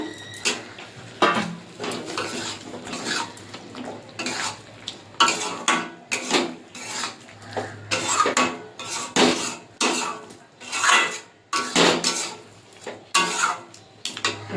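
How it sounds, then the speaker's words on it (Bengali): Fried paneer is tipped into cooked spinach in a pan for palak paneer, with close, repeated scraping and clattering of a spoon against the pan in an uneven rhythm and no talk. "কষানো হয়ে গেছে, ভেজে রাখা আমার পনিরগুলো দিয়ে দেবো।"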